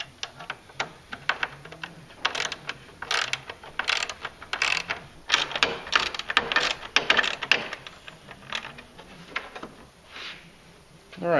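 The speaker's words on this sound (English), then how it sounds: "first you're going to want to just loosen the 3 mounting points, not take the screws completely out" Screws on a RZR XP1000 light bucket mount are loosened with a ratcheting tool, giving rapid clicking pawl bursts in irregular spurts, close and fairly loud, with a few gaps between turns.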